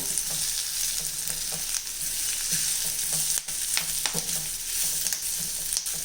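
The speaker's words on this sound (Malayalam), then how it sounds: "ഇതിലേക്ക് നമുക്ക് മുരിങ്ങയില ഇട്ട് കൊടുക്കാം. ഇതായി എടുത്ത് വെച്ചിരിക്കുന്ന മുരിങ്ങയില ഇതിലേക്ക് ഇട്ട് കൊടുക്കാം. ഒന്ന് ഇളക്കി കൊടുക്കാം." Drumstick leaves are stirred into dal in a pan, a steady close sizzle broken by a repeated scrape of the spoon against the pan, with no one speaking.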